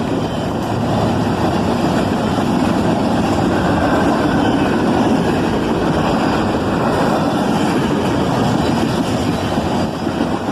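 A southbound freight train with graffiti-covered boxcars rolls past on the main line, a loud continuous rumble and wheel clatter holding steady and close for the whole stretch.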